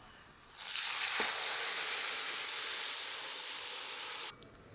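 About 1.5 litres of milk poured onto freshly fried vermicelli in a hot pot, setting off a sudden loud sizzling hiss that holds steady for several seconds and then cuts off.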